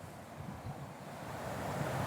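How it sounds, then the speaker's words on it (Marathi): Heavy rushing of floodwater at Shelki dam after a downpour, a continuous broadband roar like surf, growing slightly louder toward the end with no voices. "शेळकी डॅमचा फ्लो कसा आहे एकच नंबर पाऊस झालेला आहे पाण्याचा फ्लो वरचीवर वाढत आहेत"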